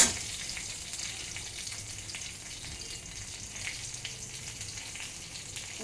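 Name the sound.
green chili and spices sizzling while frying in oil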